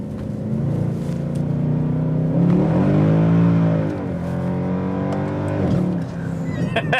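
A Mercedes-Benz C63 AMG in sports mode accelerates hard in second gear. The engine note rises loudly and steadily, eases briefly, then climbs again. The car is heard close up, with no talking.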